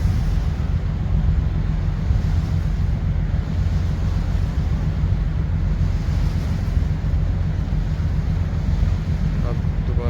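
Sea waves wash around a boat heading into open water off Dubai, a steady broadband rush of water and wind noise over the microphone with a low engine rumble beneath.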